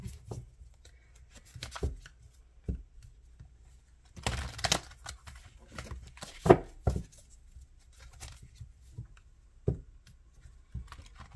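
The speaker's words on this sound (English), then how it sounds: "today is a rough day when it comes to shuffling" Tarot cards are shuffled by hand in bursts of soft riffling and tapping, with quiet gaps and a few sharper slaps, close and faint with no talk.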